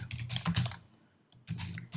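Rapid keystrokes on a computer keyboard as a command is typed at a command line, two close bursts of clicking separated by a short pause.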